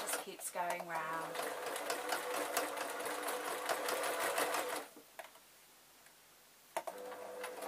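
Sewing machine stitching a felt beret in a circle, a rapid steady needle clatter running for several seconds before stopping, then a brief restart; a voice talks over it.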